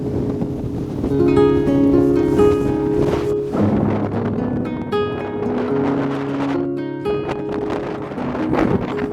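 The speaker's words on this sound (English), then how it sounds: "welcome back to Spurn Point, a very, very windy Spurn Point" Strong gusting coastal wind at Spurn Point buffets the microphone in a loud, rumbling roar, with tonal hums running through it and no talking.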